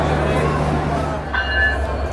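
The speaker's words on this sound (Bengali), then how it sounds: "এই যে আমাদের ট্রেন থেকে বিচ্ছিন্ন হয়ে চলে যাচ্ছে আমাদের আজকের ট্রেনের locomotive number 6330 broad gauge diesel electric locomotive" Broadgauge diesel-electric locomotive number 6330 uncoupling from a train at Ishwardi and pulling away, a steady low engine drone and rumble close by with a brief higher metallic whine midway.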